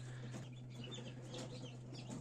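Newly hatched chicks cheep inside an incubator, faint high chirps scattered over a steady low machine hum.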